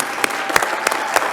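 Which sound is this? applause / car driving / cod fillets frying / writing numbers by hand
applause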